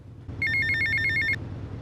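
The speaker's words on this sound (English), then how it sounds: "I think we're getting a phone call though." A phone rings in GTA Vice City, a single rapid trilling electronic ring burst of about a second, loud over a low game background hum.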